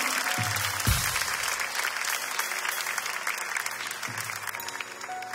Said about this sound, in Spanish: Un fuerte aplauso para Isan.